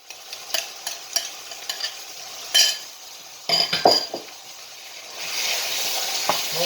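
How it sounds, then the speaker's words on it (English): Yogurt-marinated chicken with saffron milk frying in a curry pan, a soft sizzle rising steadily under scattered clinks and scrapes of a stirring utensil against the metal, close by with no speech. "Sizzling away, which is exactly what we wanted to happen."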